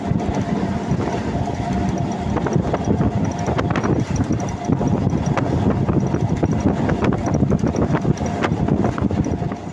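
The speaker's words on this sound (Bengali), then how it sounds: "দেখলাম নামখানা লোকাল চলে এলে" A Namkhana local train pulls into a station platform, its wheels rattling and clacking rhythmically in a loud, continuous rumble for about ten seconds.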